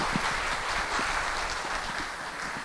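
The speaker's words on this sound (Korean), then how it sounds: "다시 한번 큰 박수 한번 부탁드리겠습니다." Audience applause at a startup founder conference session, a steady, dense wash of many hands clapping together, heard from a distance and fairly faint, with no voices over it.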